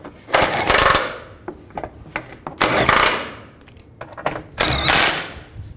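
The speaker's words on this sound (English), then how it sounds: "And tighten these bolts down." Cover bolts being tightened down on a 2000-06 GMC Yukon during a pitman arm replacement, heard as several short bursts of ratcheting and clicking tool noise separated by brief pauses, close by and fairly loud.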